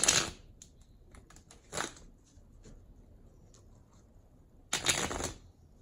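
A tarot deck being shuffled outdoors in Pompeii, three quiet, brisk riffling bursts separated by near-silent gaps, close by and alone.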